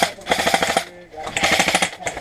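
Rapid full-auto bursts from an airsoft gun at an outdoor field, a fast rattling string of shots, a brief pause, then another burst, close and fairly loud.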